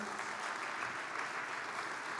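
Audience applause welcoming a speaker to the stage at an energy industry conference, a soft, steady patter of many hands clapping throughout, no voices.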